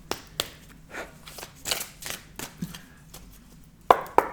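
A tarot card deck being cut and handled, a series of soft irregular papery slaps and taps, ending with two sharper, louder clacks.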